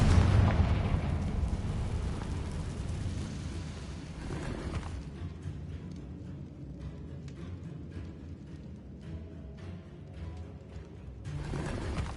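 A Confringo blasting-curse explosion in Hogwarts Legacy opens with a loud boom. A long rumbling decay and scattered crackles follow, then a second burst swells near the end.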